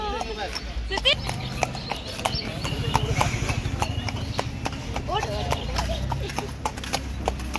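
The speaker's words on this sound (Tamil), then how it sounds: "பக்கத்துலேயே பார்த்தீங்கன்னா குதிரை சஃபாரி இருந்தது" Horse hooves clip-clop on a horse safari in Kodaikanal, making a steady, close run of hoofbeats under people talking.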